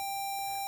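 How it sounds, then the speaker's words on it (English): A mobile phone sounds a single steady electronic beep tone in a quiz studio, lasting under a second before stopping abruptly. "somebody's got a phone going"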